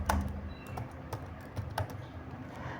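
A computer keyboard is typed on to fill in an online EPF form. Scattered, irregular key clicks sound close and soft, with no talk.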